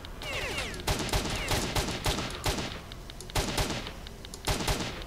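Rapid gunfire from a gun in the video game Search Dies Irae, loud bursts of shots repeating in quick succession with brief gaps, dense and close throughout.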